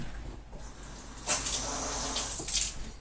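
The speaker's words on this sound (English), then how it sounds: "Run it under the sink, run it under the water." Water from a sink tap runs over a sword blade, a soft steady stream that swells louder partway through, close by with no talk.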